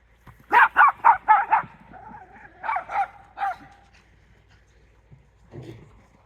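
Dogs barking at a home near a chicken coop build, a quick burst of five loud close barks, a pause, then a few more barks and a short low sound near the end.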